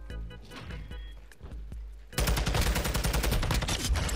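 Rapid gunfire from the Call of Duty video game, starting after a couple of isolated shots and then erupting into a loud, dense burst of automatic fire for the second half.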